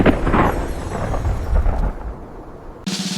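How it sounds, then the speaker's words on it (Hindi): Thunder rolls from dark clouds over a night sky, a deep, loud, continuous rumble that fades and then cuts off abruptly. "आसमान पर काले बादल गरज रहे थे।"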